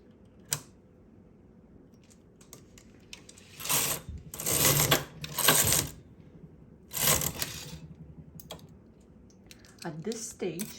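A domestic knitting machine carriage is pushed across the needle bed to knit two rows of a lace pattern, making loud rattling, clattering sweeps in several bursts, with a few clicks between passes.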